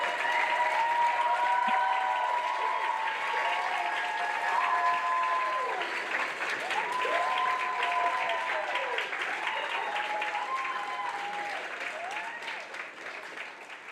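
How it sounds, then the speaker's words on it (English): Audience applause at a Doctor of Physical Therapy white coat ceremony, sustained, dense clapping from a large hall crowd with whoops and voices rising over it, gradually tapering off. "First, an applause for the class of 2028."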